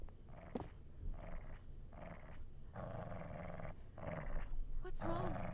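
A dog growls in the horror video game Resident Evil 7, in a series of rough, rumbling bursts separated by short pauses, fairly close and loud.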